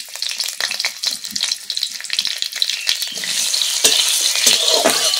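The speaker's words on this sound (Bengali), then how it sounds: "কড়াই দিয়ে দিচ্ছি সর্ষের তেল। ফোড়নে দিয়ে দিচ্ছি হাফ চামচের মতো গোটা জিরে।" Whole cumin seeds and slit green chillies sputter in hot mustard oil in a kadai, a bright, crackling sizzle with rapid pops that grows fuller toward the end.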